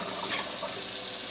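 Tap water runs steadily and loudly into a sink, filling it with hot rinse water after washing fiber, a continuous broadband rush with no voices.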